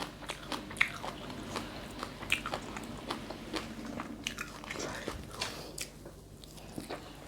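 Crunchy bites into fresh raw vegetables served with Thai larb, repeated crisp chewing snaps close to the mic at a steady rhythm over several seconds, with no talking.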